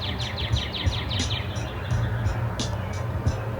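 Small birds chirp in the early morning, at about 6 o'clock, with quick repeated tweets that are faint and somewhat distant over a low background rumble.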